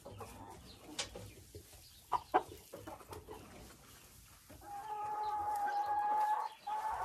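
Laying hens cluck in a farmyard coop, giving scattered close clucks and squawks over a low background, followed by a steadier stretch of noise toward the end.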